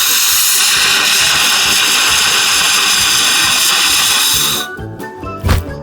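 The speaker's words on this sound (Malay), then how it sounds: "Alat pemadam api." A fire extinguisher sprays in a video game with a loud, steady hiss of gas lasting several seconds, then cuts off abruptly into a few scattered clunks and a short thump.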